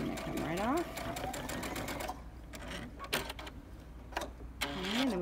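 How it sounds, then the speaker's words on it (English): Sewing machine stitching and backstitching Cuddle minky fabric for a self-binding blanket, rapid close needle bursts with pauses between runs, while a person talks over it. "I just sew in a little and then I backstitch"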